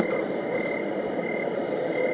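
The summer night setting on a HoMedics SoundSpa sound machine plays a continuous, dense chorus of crickets over a steady background hiss, unbroken and fairly loud.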